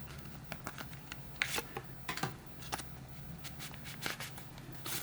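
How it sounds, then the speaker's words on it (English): Cards slide out of a tight minimalist wallet in a quiet room, a series of soft, separate scraping and flicking sounds close up, with no talking. "Let's see if I take the cards out first."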